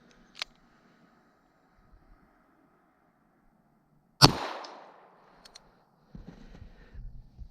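Single gunshot fired from about five feet at an ODENWOLF W2 knife blade to split the bullet, a sharp loud crack with a short decaying tail, followed by faint knocking and rustling.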